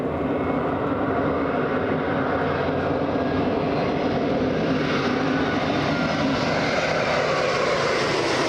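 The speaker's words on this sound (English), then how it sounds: "looks like the A350 with plenty of time to spare. About to touch down." Airbus A350 on short final to touch down at Los Angeles International Airport, a loud, steady broadband engine roar with a dense rumble that holds throughout, close and continuous.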